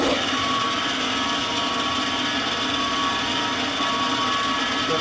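A steady, loud whirring drill with a millimeter bit runs continuously, making a lock pick, with a constant high-pitched whine and broadband grinding noise, without pauses.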